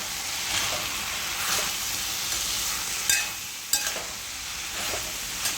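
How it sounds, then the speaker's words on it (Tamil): Mushroom, capsicum and potato fry sizzling steadily in a pan on low heat as ground masala is stirred through, with a few sharper scrapes of the spoon against the pan. "அரைச்ச மசாலா வச்சுட்டு அடுப்பை சிம்மில் வச்சுட்டு ஒரு 5 நிமிஷம் கிளறி"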